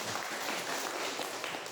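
Applause for a priest at a church family and life apostolate team-building gathering, a steady dense patter of many hands clapping throughout the short stretch, fairly even in loudness with no voices standing out.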